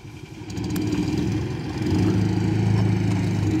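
An all-terrain vehicle with an 18.5 hp engine and electric starter runs loud and close, idling with a low rumbling throb that rises as it revs.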